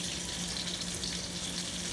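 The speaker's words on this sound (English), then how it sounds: "I'm gonna finish frying these up" Saltfish fritters with onion fry in hot oil in a pot, giving a steady, moderately quiet sizzle that holds evenly throughout with no talking.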